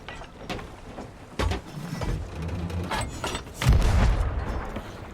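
Cannon fire from the Dark Warsmith in a video game: two heavy booming blasts about two seconds apart, the second louder. Mechanical clatter and rattling sound in between, and no voices.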